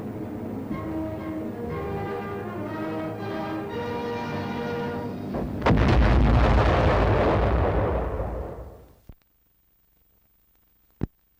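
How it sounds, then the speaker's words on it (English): Artillery projectiles with proximity fuses exploding in the Korean War, a sustained rumbling roar of blasts swelling in loudness, then fading into near silence, followed by a sharp late pop. "it automatically explodes a projectile just before it reaches the target."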